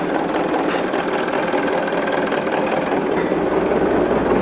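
An engine runs steadily at idle close by, its exhaust giving a constant, dense rumbling drone with no break or change in pace and no voices over it.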